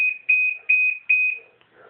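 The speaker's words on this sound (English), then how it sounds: "Cycle signal is beeping." A Kenmore Oasis washing machine sounds its cycle signal as three loud, clear electronic beeps at an even pace, each held briefly, with quiet between them and faint movement after.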